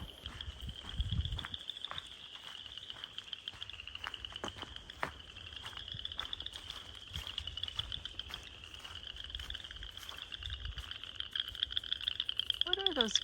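Dense chorus of frogs croaking outdoors on a hike, a steady rapid trilling that runs continuously at moderate loudness, with a few brief thumps and rustles underneath.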